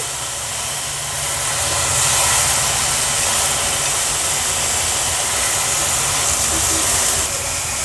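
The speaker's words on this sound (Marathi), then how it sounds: "हे सोललेले वाल ॲड करणार आहोत" Peeled val beans from Alibag, added to masala, set off a loud, continuous sizzle and hiss that swells after the first second and stays steady, with a low rumble beneath.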